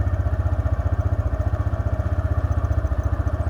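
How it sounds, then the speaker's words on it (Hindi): A motorcycle creeps forward in gear as the clutch is eased out with no throttle. The engine idles low with a steady, rapid thumping pulse and light mechanical clatter, close and even throughout. "और देखो मैंने होल्ड करके रखा है और बाइक अपने आप आगे जा रही है"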